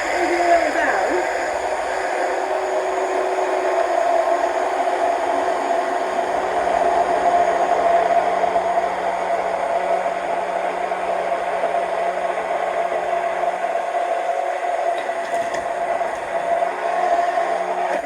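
A stick blender whirs steadily while emulsifying homemade mayonnaise, held still and lifted slightly as it pulls oil down. The motor drone stays loud and even throughout, with no talk over it.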